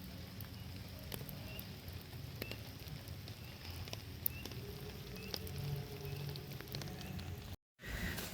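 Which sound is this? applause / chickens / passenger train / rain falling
rain falling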